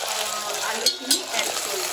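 Ginger garlic paste fries in a pan with a dense, close sizzle, broken by a couple of brief stirring clinks and splutters.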